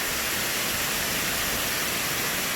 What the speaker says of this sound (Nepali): झर्ना त यहाँ रहेछ त